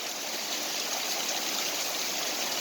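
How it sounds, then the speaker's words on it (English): Steady rain falls in a dense, even hiss that stays constant and close throughout, with no voices. "if you like rain, this rain is just so beautiful"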